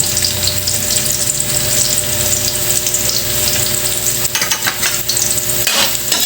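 Onion and garlic sauté in a hot pan for igado with a loud, dense, continuous sizzle close up, broken near the end by a few stirring scrapes.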